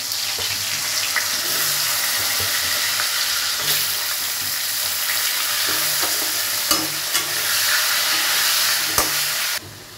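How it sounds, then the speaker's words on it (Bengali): Potatoes fry in oil with a loud, steady sizzling hiss close by, punctuated by a few sharp clicks and spatters, ending in a sudden cutoff. "এবার আমি আলুগুলো ভেজে নিচ্ছি"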